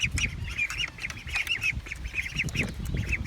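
Baby ducks on a small farm in the morning give a busy stream of high, repeated peeps and squeaks, close and lively, with light shuffling underneath and no talk.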